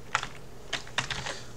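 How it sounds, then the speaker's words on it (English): Light typing on a computer keyboard in a note-taking app, a single keystroke followed after a pause by a quick cluster of clicks, close and clear with no voices. "if I come in here to just normal notes and start typing"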